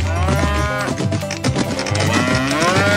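A herd of cows penned in a ranch enclosure moos loudly and close by, several long, overlapping lowing calls following one another with no pause.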